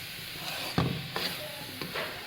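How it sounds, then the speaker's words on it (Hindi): Turnip and egg fry in ghee in a pan with a steady, soft sizzle, broken by a few scraping stirs and light clatters from the utensil. "इस तरह इनको अंडे का तड़का लगा दें।"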